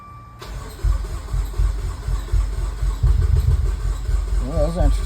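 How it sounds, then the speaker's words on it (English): Car engine cranking unevenly during a relative compression test, a close, loud starter-motor churn with an irregular, lumpy rhythm, ending in a brief rising whine. "I did notice it was cranking really weird, so I'm going to do a relative compression test"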